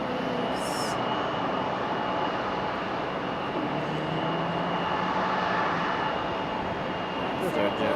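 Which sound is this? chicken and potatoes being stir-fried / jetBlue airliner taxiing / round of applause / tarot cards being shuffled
jetBlue airliner taxiing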